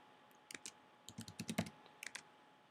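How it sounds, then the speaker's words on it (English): Quiet bursts of typing on a computer keyboard, with short clusters of crisp key clicks separated by brief pauses and no talking. "They type in their information."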